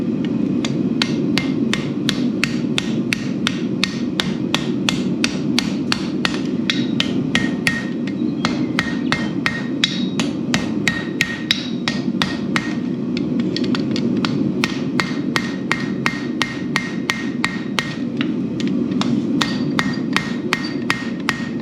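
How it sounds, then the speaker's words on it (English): Hammer blows forge hot metal, squaring it down and pushing each corner out, then drawing a corner back in; a steady, rapid run of sharp metallic strikes, close and loud, with no talk throughout. "you can see how it's pushing each corner out just by forging it down like that"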